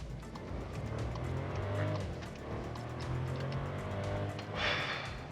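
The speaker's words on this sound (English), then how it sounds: "gorgeous turbo sound" Volkswagen Polo turbo engine pulling hard in manual mode, heard from inside the cabin as a low, rising engine drone with a whooshing turbo hiss near the end, fairly quiet overall with no voices.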